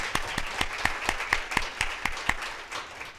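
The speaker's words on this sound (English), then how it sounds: "Let's give them a round of applause." An audience at a mental health panel event in Des Moines applauds, with steady, rhythmic clapping from a modest crowd, close and sustained for several seconds.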